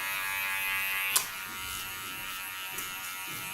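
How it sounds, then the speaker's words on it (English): An electric hair clipper buzzes steadily while trimming a man's hair, a close continuous hum with a couple of small clicks as it touches the hair. "always stabilize the clipper with your other hand"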